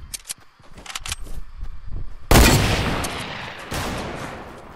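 Gunfire in Fortnite: a run of sharp, quick shots in bursts, then a louder sustained blast of noisy firing or explosion, close and harsh, with no talk.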